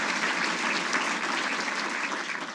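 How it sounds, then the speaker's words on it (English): An audience at an awards ceremony breaks into full, loud applause, a thick, even wash of many hands clapping with no voices rising above it. "A round of applause to all of the participants and the people who helped to put this great ceremony on."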